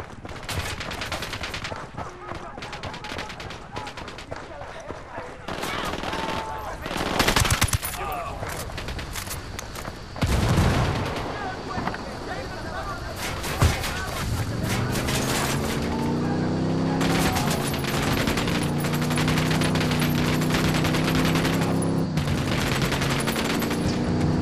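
A firefight in the video game Ghost Recon Wildlands, with rapid, dense bursts of gunfire running almost continuously and a low engine-like hum rising in the second half.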